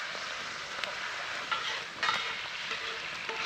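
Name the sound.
beer poured onto onions sizzling on the coals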